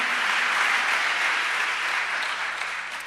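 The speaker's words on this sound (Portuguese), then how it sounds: "Se você também tomou essa decisão, aplauda o Senhor" Church congregation at an Assembly of God service breaks into steady, full applause, a dense even clapping wash that tapers slightly at the end.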